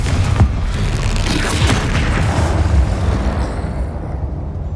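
A Confringo fire spell explodes in Hogwarts Legacy as a loud, deep boom that rumbles and roars steadily for several seconds before slowly thinning out.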